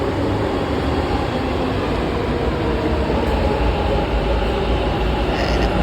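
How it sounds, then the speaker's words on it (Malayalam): A Bangalore metro train arrives at the station, a steady, loud rumble of rail noise and hum filling the platform throughout with no talk. "നമ്മൾ മെട്രോ ഇവിടെ എത്തിയിരിക്കുന്നു."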